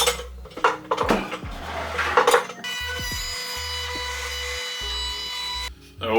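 Softwood berry harvester having its edges rounded over by hand, with irregular scraping and rasping strokes, then a steady grinding or sanding drone near the end; close, loud, no talking.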